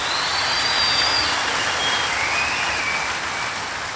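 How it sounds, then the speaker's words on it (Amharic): A church congregation applauds its pastors and church servants with dense, sustained clapping that fills the whole stretch at a steady level. "ለነሱ አጨብጭቡላቸው።"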